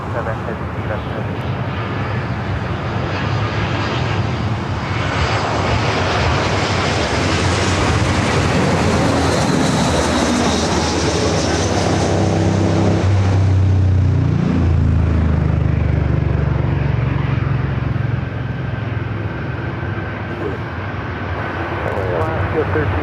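Airliner engines roar loudly and steadily at LAX airport in Los Angeles, a broad continuous rumble swelling as a plane passes close, with faint radio chatter beneath.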